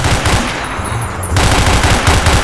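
Loud, rapid gunfire from a video game shootout rattles in dense bursts, close and continuous across a couple of seconds with a brief lull in the middle.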